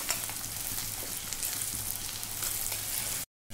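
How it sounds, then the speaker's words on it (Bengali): Sliced onions fry in hot oil to make beresta for chicken biryani, giving a loud, steady crackling sizzle that stays close throughout. It cuts off to silence briefly just before the end. "এখানে আমরা বেরেস্তাটা ভেজে নিচ্ছি"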